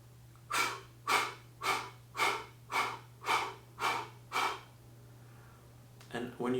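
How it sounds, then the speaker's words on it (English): A person breathes in a paced pattern: after a deep nasal inhale, eight evenly spaced, breathy exhales puff out through rounded lips in a steady rhythm. The voice is close and clear over a low steady hum, with a short rustle at the end. "an inhale, a smooth, deep inhale through the nose, and then an exhale through rounded lips in 8 equal parts"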